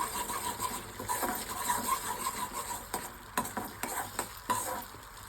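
A utensil stirs and scrapes through sizzling chilli-flake sauce in a pan for Chinese pakoda, with soft clicks and scrapes over a steady frying hiss, no voices.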